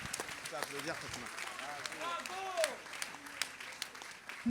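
Audience applause after a short theatre piece at a regional event, a mid-distance crowd clapping under a speaker's voice that continues over it, with scattered louder claps.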